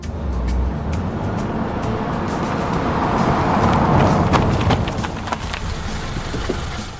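A car's engine and road noise rumble loudly and steadily for several seconds with scattered light clicks and rattles, then ease slightly toward the end as the car slows to a stop.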